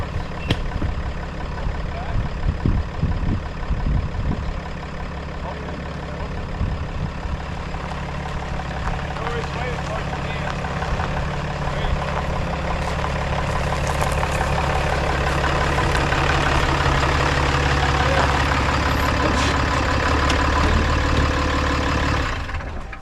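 A truck engine idles and runs steadily at close range, a deep continuous rumble with brief hissing and knocks, growing slightly louder toward the end, with occasional talk underneath.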